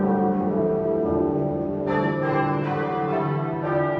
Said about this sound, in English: the first hint of impending disaster was the sound of church bells